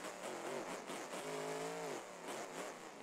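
A racing truck's motor revs hard under throttle at a truck racing event, a rising and falling engine tone, steady and moderately faint, over the short stretch.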